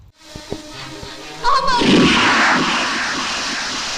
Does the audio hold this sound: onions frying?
no